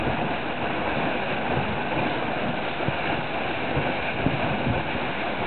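A Dragonfly 1200 trimaran sailing fast with one reef in on gusty Long Island Sound, a steady broad rush of water and wind noise with no breaks or voices.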